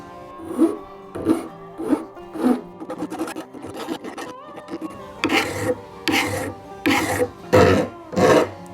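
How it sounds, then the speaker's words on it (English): A big metal file rasps across an old blacksmith's knife in a shop, a series of about ten rhythmic back-and-forth strokes that get louder and heavier in the second half. "I'm going to start with this big file"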